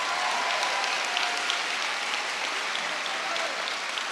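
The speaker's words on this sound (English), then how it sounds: "So, Anna Skrenta from the East Hampton, please hold your applause" Steady applause from a large town hall audience, a dense even wash of clapping that holds throughout without a break.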